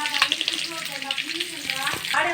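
Mustard seeds and curry leaves fry in hot oil, giving a steady close sizzle with scattered crackles and pops, while a voice speaks over it for part of the time.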